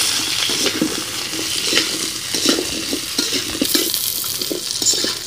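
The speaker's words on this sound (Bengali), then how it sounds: "আমি আলুটা 1 মিনিট ভেজে নিয়েছি পেঁয়াজের সাথে।" Potatoes and onions frying together in a pan, with a close steady sizzle under repeated spatula scrapes and stirring strokes in an uneven rhythm, and no talking.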